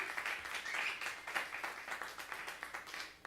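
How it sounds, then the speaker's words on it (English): Audience giving warm applause after a presentation paying tribute to Thelonious Monk, a steady, fairly soft crowd of clapping hands that continues evenly from start to finish with no talking over it. "Another, please, warm applause for Yumi."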